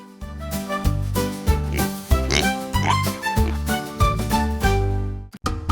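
Cartoonish pig oinks and grunts sound repeatedly over a bouncy, rhythmic children's nursery-rhyme backing, ending with a short jingle.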